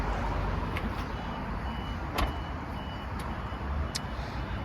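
A Volvo XC40 Mild Hybrid's power boot closes with a series of sharp warning beeps spaced about a second apart over steady low background rumble.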